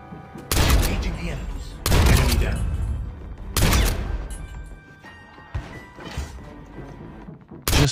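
Gunfire in the mobile shooter Call of Duty Mobile, three or four heavy, booming shots or bursts spaced about a second or two apart, loud and close, with fainter impacts trailing after.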